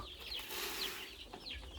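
Seven-day-old black-boned Phu Phan and Wenchang male chicks jostle over feed, their soft clucks and chirps coming steadily and close over a low background hum.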